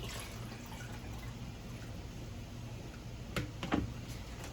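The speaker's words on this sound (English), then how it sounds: "And then I'm gonna pour that in with the water." Vinegar is poured into a container of water, giving a faint, quiet splash and trickle over low background hum, with a couple of brief liquid gurgles near the end.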